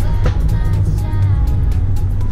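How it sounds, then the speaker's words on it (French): BMW Z4 M40i 2019 roadster with a 340 hp six-cylinder engine, giving a loud, steady low rumble of engine and exhaust with faint crackling pops on top, close and continuous throughout. "le bruit du 6 cylindres est vraiment cool"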